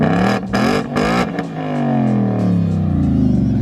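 A 2018 Ford Mustang GT with its Coyote V8 and swapped axle-back exhaust roars loudly up close, with several sharp rev blips followed by a long, rising drone as it pulls away.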